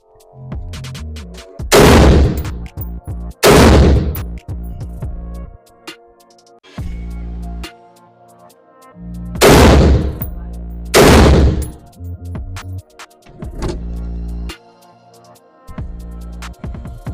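Rifle fitted with a Breek Arms Castle blast shield fires four loud, sharp shots, spaced in pairs with pauses between, each followed by a brief echo in an outdoor range setting.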